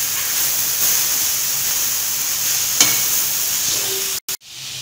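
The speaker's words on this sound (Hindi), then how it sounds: "इसको हल्की आंच पे भूनेंगे इसको अच्छे तरीके से" Grated mooli filling for paratha frying on low heat in a pan, a steady close hiss and sizzle with a faint clink near the middle and a brief cutout near the end.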